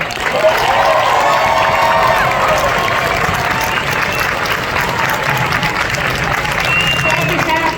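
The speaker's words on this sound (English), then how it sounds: "Let's give them a round of applause." A large crowd applauds steadily with scattered cheers and shouts at a Basic Combat Training family day, a loud continuous wash of clapping throughout.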